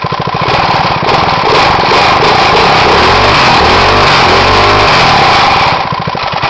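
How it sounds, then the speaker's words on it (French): A small kart engine is given a little throttle, its loud, close rattling putter rising through the middle and easing back near the end. "Donc voici le bruit quand on met un peu des gaz."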